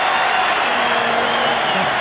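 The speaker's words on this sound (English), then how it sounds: "The crowd's gone up." Stadium crowd at a 1997 City versus Country rugby league match roars steadily, a broad continuous wash of many voices that stays loud and even throughout.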